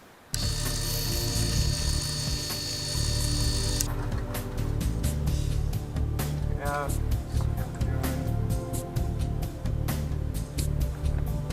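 A drill bit whines steadily while being wiggled to widen the BB feed channel of an airsoft pistol, a continuous loud mechanical grind with a low hum underneath throughout.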